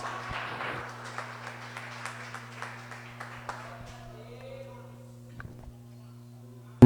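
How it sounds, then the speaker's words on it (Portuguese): A church congregation claps during an evening worship service, a burst of scattered hands that thins out and fades over a few seconds beneath a steady low hum. "aplauda o nome do Senhor Jesus"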